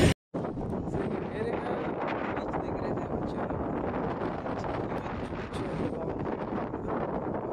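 Strong night wind sweeps across a beach in Goa, a dense, steady roar of gusts buffeting the microphone, loud and continuous from just after a brief opening silence to the end.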